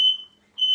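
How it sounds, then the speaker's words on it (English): Smoke alarm in a kitchen giving shrill, piercing electronic beeps, one tone cut off and then a second starting after a short gap, loud and near. "That was just a fire alarm."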